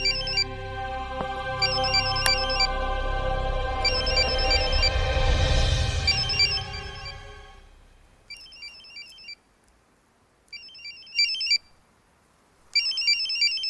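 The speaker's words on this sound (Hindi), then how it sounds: "कोई फोन बज रहा है।" A phone ringtone repeats in short electronic chirping bursts, first over a swelling music score, then almost alone with quiet gaps between rings.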